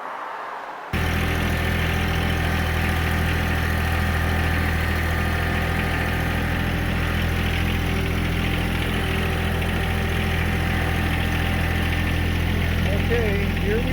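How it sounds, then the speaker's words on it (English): A tractor engine starts up and idles in a backyard during a patio and rock project, a steady low rumbling drone running nearly the whole time after a brief quiet opening. "let me go get set up and get the tractor."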